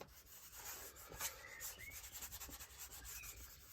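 Gentle hand rubbing on paper on an art challenge page, a soft, steady scratchy friction with small strokes, quiet and close, with no talking.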